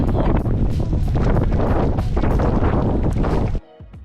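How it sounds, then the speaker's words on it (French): Strong wind buffets the microphone of a non-electric bicycle during a long ride toward Avignon, loud gusty roaring and rumbling that cuts off abruptly near the end, leaving quiet. "Il y a tellement de vent que j'avance pas"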